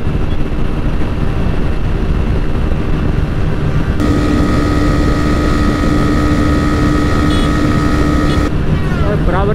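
A TVS Raider 125 motorcycle engine drones steadily during a drag race against a Pulsar 125, a loud continuous buzz with a rising held tone partway through and heavy wind noise throughout.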